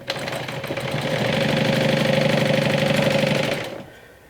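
A sewing machine topstitches in a short, continuous burst, a rapid mechanical rattle that ramps up, holds steady for a couple of seconds, then winds down and stops.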